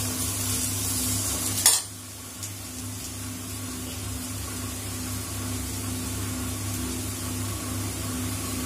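Cassava slices fry in a pan with a steady, close sizzle that runs throughout, broken early by a brief stirring scrape.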